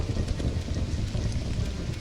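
Steady rainfall in the video game Stranded: Alien Dawn, set at a jungle military outpost, a dense continuous hiss of rain with a low rumbling bed, even and unbroken throughout.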